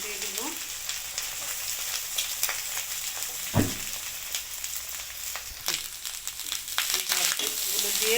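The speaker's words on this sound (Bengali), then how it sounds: "ভাতগুলো দিয়ে নাড়াচাড়া দিয়ে দিলাম" Cooked rice being stirred and tossed in a pan for fried rice, a steady close sizzle with repeated scraping strokes and a sharp clack partway through, alone without talk.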